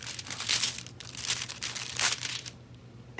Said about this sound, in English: So now I'm releasing foil on the candle.